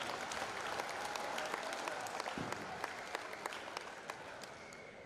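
A round of crowd applause for five senior wrestlers at a high school wrestling event, sustained dense clapping from a large audience in a gym, fairly distant and even.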